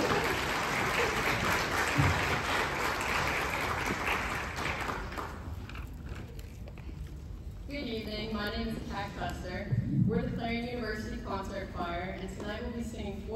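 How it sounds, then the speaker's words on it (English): Audience applause greets students walking onto a university stage at a cultural dance event, broad clapping filling the first half before music with singing takes over; voices are heard throughout. "Let's give them a big applause."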